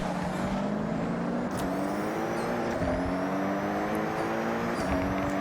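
A Toyota GR GT race car in the video game Forza Horizon 6 drives at speed. Its engine note climbs steadily, broken by a few quick gear shifts, loud and continuous with no speech.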